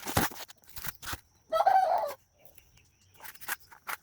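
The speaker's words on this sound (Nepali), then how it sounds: "भाले चाहिँ बिहान राख्दैन जब दिउँसो हुँदै गयो नि राख्छ" A rooster crows once in the middle, a moderately loud call lasting under a second. Scattered short knocks and faint background sounds come before and after it.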